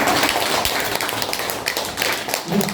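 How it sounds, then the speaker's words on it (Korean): Listeners at a Buddhist lecture clap together, a dense, close burst of hand claps that keeps going for the short stretch. "박수 한번 크게 쳐봐요."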